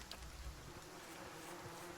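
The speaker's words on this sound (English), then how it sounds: "The only answer you hear is the buzzing of flies from the tree." Flies drone around a tree in the game Pillars of Eternity, a faint continuous insect buzz with no talk over it.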